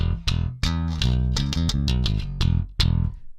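A Spector NS Ethos 5 bass recorded direct through a DI plays a short punchy riff of plucked notes with deep sustained lows and a bright attack on each note, alone and close.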